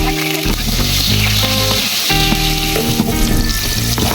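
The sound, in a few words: garlic frying in a Simplas multi-cooker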